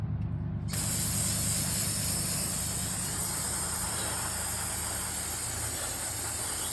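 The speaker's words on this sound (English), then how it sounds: "Check out my parts cleaner." An aerosol parts cleaner sprays in one steady, loud, continuous hiss, used during radiator, transmission and oil service on an abandoned 1994 Dakota pickup, after a brief quieter moment at the start.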